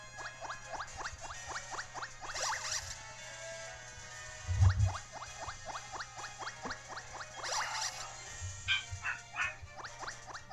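Repeated dog barks from Pokémon Ultra Sun come in quick bursts over steady game music, with a heavier thud in the middle and a few brighter chirps near the end.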